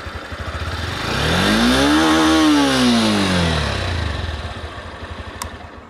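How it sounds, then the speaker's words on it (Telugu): A Honda CB200X motorcycle engine revs up from a steady idle, rising smoothly to a loud sustained peak and then falling back to idle, close to the microphone with no talking. "ఒక్కసారి మనం కొంచెం రెవ్ చేసి చూద్దాము."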